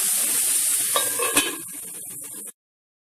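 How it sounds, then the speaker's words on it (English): Pumpkin pieces sizzle in a pan over medium heat while being stirred and turned, a steady close frying hiss with a few louder scraping stirs, stopping abruptly after about two and a half seconds. "this is on a medium heat, and I'm just going to keep on turning it occasionally until all the pumpkin is soft and cooked"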